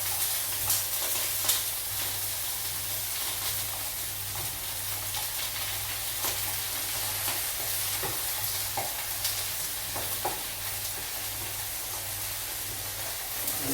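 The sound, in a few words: beef steaks and spinach frying in a pan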